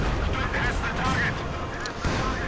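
Artillery barrage in the video game Company of Heroes 2, during a 4v4 match as the Germans: dense, continuous rumbling shell blasts and booms, loud and close, with a few sharper bursts in the thick battle din.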